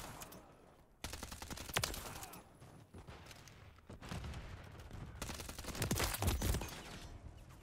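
The Striker gun fires in Call of Duty MWIII, heard as several quiet bursts of rapid shots with short gaps between them, fairly soft overall.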